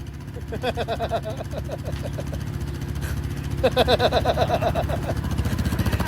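A 2025 Yamaha Raptor 700 quad bike engine runs with a steady, close, low throbbing drone, its revs pulsing in two bursts of rapid rhythmic chatter.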